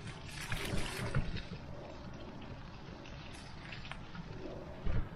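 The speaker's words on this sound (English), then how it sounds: "It's raining." Rain falling outdoors on a patio, a steady broadband patter and wash with a low rumble underneath, continuous throughout with a brief thump near the end.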